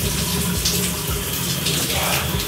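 Shower water running steadily after being switched to its coldest setting, a continuous loud hiss of spray close by with no talking.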